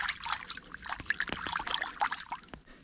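Fish fillets, two largemouth bass fillets at a bushcraft camp, are rinsed under running water, giving a soft, close trickle and splash with small irregular drips and pours.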